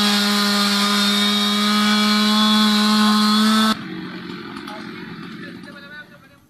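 A chainsaw run by fire and rescue crews cuts a fallen tree that blocked a road and brought down power lines at Kacheri near Mukkam, Kerala; a loud, steady engine drone holds for several seconds, then cuts off to quieter background noise.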